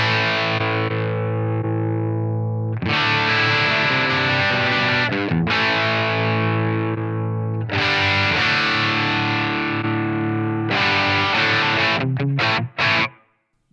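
Electric guitar played with a distorted crunch tone through a Blackstar amp, compared between EL84 and EL34 power valve responses; loud sustained strummed chords and riffs alone, ending in a few short choppy stabs.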